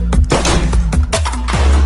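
Rapid bursts of loud gunfire from a homemade firearm, several sharp cracks and booms crowding together with a heavy low rumble, close and forceful, with no talk.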